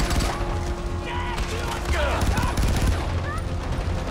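Gunfire in the video game Far Cry 4, dense bursts of shots and fusillade running under steady game noise and background sound for the whole stretch.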